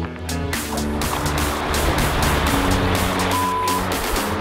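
River water rushing and churning in a steady, loud broadband wash while a cyclist wades across on foot in the cold Jagungal Wilderness of Kosciuszko National Park in winter, no voices over it.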